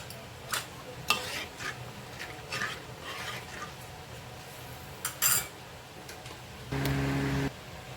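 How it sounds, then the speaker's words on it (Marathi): A pot of fasting kadhi seasoned with rock salt bubbles on the stove while a spoon stirs it, giving quiet scattered clinks and scrapes against a low simmer, with a brief steady tone near the end. "कढीला आपल्या छान उकाळी आली आहे"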